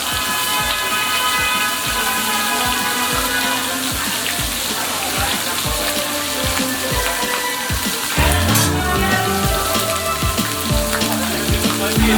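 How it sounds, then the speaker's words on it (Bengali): Hilsa fish and four eggplant pieces frying in oil at a riverside stall at Mawa Ghat, a loud, dense sizzle with crackling spatter that swells near the end. "ভাজা হচ্ছে মাছ, সাথে 4টা বেগুনের টুকরা।"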